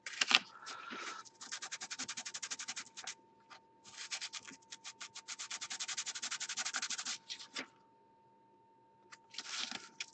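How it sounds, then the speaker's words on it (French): Sandpaper rubs over a cold-cast resin piece from a post-apocalyptic tabletop scenery kit, making close, rhythmic scratchy back-and-forth strokes in long runs with short pauses and a faint steady hum underneath. "Pareil là, faut que je le ponce."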